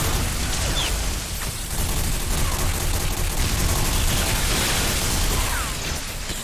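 Gunfire in the video game Bodycount, dense overlapping bursts of automatic shots with booms and pops, a constant loud fusillade with no voices.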